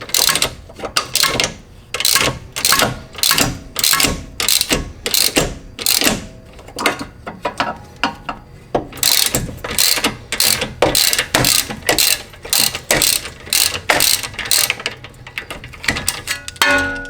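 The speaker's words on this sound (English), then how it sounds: "you will need the 18mm wrench to hold the other side" A wrench ratchets while tightening a BC Racing coilover for a BMW E36, with many quick metallic clicking strokes in steady repeated bursts, close and clear.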